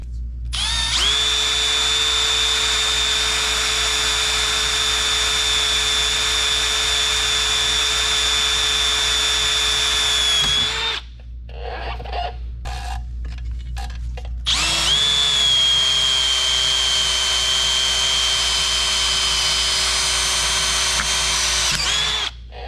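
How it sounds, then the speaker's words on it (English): A power drill boring holes into the steel of an Eterra 4500 cone wood splitter, a loud steady high whine held for about ten seconds, a short pause with scraping, then a second long drilling run. "So let me knock these other 2 holes out real quick."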